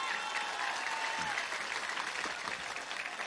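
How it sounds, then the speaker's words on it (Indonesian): An audience at a halal bihalal religious gathering applauds, producing a dense, steady wash of clapping that fills the whole stretch without letup. No one speaks over it. "Tepuk tangan untuk Wongsorejo"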